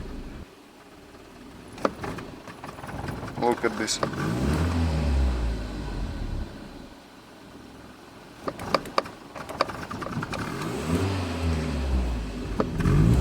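A Mercedes W124 engine revs unevenly, rising and sagging as it labors, with brief talk and a few clicks over the rough, uneven rumble.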